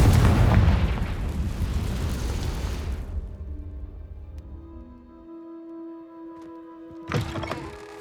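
The Confringo fire spell in the video game Hogwarts Legacy explodes with a loud, deep boom that rumbles and fades over a few seconds, followed by a soft musical hum and a brief clattering burst near the end.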